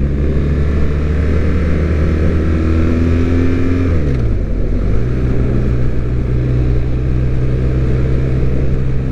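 A BMW R1250R motorcycle on a test ride drones loudly and steadily, its engine note dipping and rising again midway as it shifts or eases off, with wind noise throughout.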